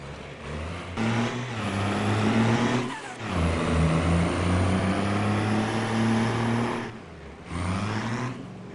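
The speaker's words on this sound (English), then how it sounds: "just had the truck leave with the diesel" Diesel delivery truck in the Farming Simulator video game, a steady loud engine drone with low harmonic hum that swells, dips briefly around the third and seventh seconds, then resumes.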